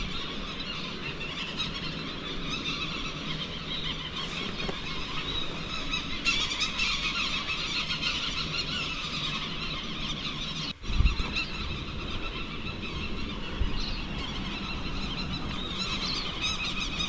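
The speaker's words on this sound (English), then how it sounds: "Just beautiful, and the bird noise just amazing." Birds on a Lord Howe Island bushwalk give honking, goose-like calls that repeat continuously at moderate distance over a soft outdoor background, with a brief bump partway through and no talking.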